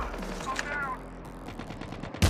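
Sniper rifle shots fire in Call of Duty Mobile gameplay, a few sharp cracks and a loud final blast amid busy game sound, fairly faint overall.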